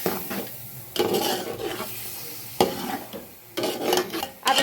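Yogurt being mixed into chicken pulao in a pot: a spoon scrapes and rubs against the metal in several separate strokes, with a soft, moist sizzle continuing between them, close by and moderately loud.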